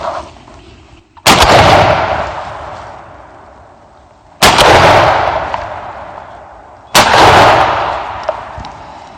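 Three loud shotgun blasts fired at a turkey during a hunt, each a sharp close crack followed by a long rolling echo, spaced a few seconds apart in an otherwise quiet outdoor setting.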